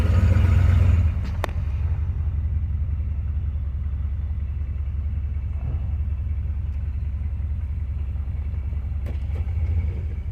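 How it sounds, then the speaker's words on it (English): A vehicle reverses under engine power during a test drive, with a steady low engine rumble heard close by, slightly louder for the first second and then holding an even drone for about ten seconds. "We'll go back one more time in reverse."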